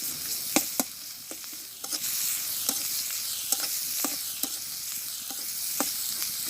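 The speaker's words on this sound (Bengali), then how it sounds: "একটু লবণ একটু হলুদ পেঁয়াজটা সুন্দর করে ভাজি করে মিশিয়ে দেবো" Onions frying with salt and turmeric in a pan, a steady close sizzle broken by repeated clicks and scrapes of a spoon stirring at an irregular pace.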